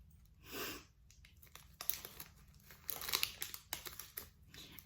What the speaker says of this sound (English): I have here a full-size Hershey bar. It's actually a king size. And I'm going to open this, hopefully.